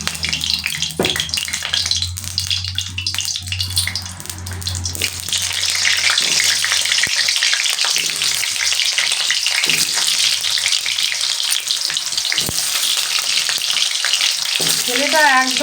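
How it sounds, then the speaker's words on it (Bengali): Potatoes fry in hot mustard oil with a loud, continuous sizzle that swells after a few seconds, mixed with occasional stirring clatter. "সর্ষের তেল দিয়ে আমি একটুখানি আলুগুলো কিন্তু ভেজে নেবো আগে"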